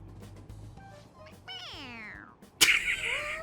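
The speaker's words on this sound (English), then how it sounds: "It meows when you press on its head." A stuffed cat toy in Persona 5 Royal lets out a drawn-out meow when pressed on the head, rising then falling, followed by a sharp burst and a second shorter meow, with faint background sounds beneath.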